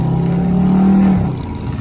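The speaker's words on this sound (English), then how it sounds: "That truck killing my vibe" A loud truck engine in traffic rumbles steadily close by, a low drone with a sustained tone that fades after about a second, no talk over it.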